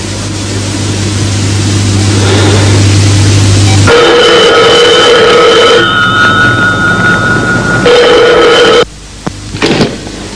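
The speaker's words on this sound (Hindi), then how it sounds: "ये टेलीफोन।" A telephone rings in two long tonal bursts with a pause between them, over a loud, hissy background.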